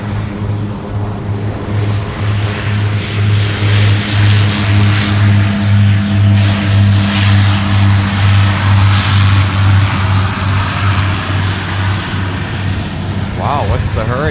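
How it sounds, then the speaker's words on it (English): A Metroliner turboprop taxis at MSP Airport, its engines giving a loud, close, continuous propeller drone with a steady low hum throughout. "Up close and personal with the Metroliner. Take a listen to that."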